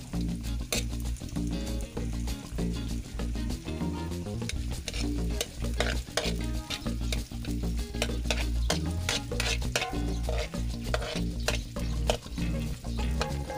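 Onions and garlic sauté and get stirred in a pan, a steady loud sizzle with repeated scraping stir strokes throughout, no voices.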